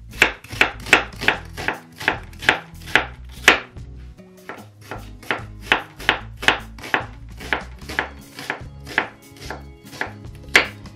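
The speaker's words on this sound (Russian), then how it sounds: "Пока маринуется курица, мелко порежем лук." Steady rhythmic knife strikes on a cutting board finely chopping onion, fast and close, a quick run of sharp chops with a short pause midway.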